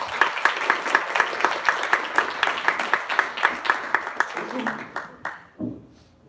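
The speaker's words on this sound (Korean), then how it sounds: "힘찬 박수 부탁드리겠습니다." Rhythmic, unified clapping from a union gathering welcoming a lawyer lecturer, beating in a steady pulse like a chant before trailing off into scattered claps and a voice near the end.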